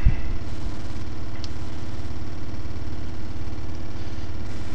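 A Bedini motor running, a loud, steady low hum with a fast regular pulsing throb and a faint tick partway through, continuous with no speech.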